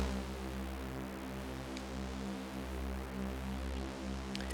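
A sustained Vital synthesizer tone of seven unison voices at default detuning, steady and thick with a gentle beating shimmer, held alone throughout.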